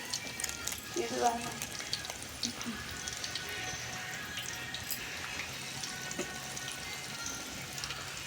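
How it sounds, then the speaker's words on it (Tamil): Quiet, steady sizzling and crackling of fish frying in oil runs throughout, with a few brief clinks, close but soft. "மீன் நல்லா பொரியுது."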